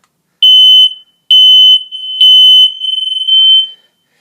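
A smoke alarm being tested goes off with three loud, piercing high beeps in a steady rhythm, each lasting about half a second, followed by a warbling tone as the alarms sound together.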